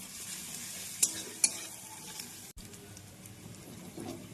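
Boiled arhar dal going into a pan of frying tomatoes with hing, two sharp clinks of a spoon against the pan, then a close continuous sizzle with stirring.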